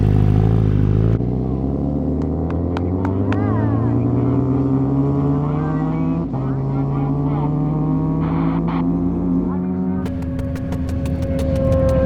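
A racing motorcycle screams at speed on a top-speed run, its engine note climbing steadily through long pulls with sharp gear changes between them, loud and close, while a voice talks over it.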